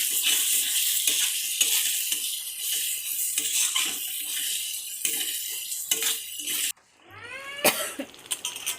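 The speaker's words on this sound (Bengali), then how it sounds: "মশলাটা ফুটতে শুরু করেছে দেখুন।" A spice paste loosened with water for a meat khichuri sizzles and bubbles steadily in a pan, a dense close hiss with small pops, followed by a cough and some clinking of utensils.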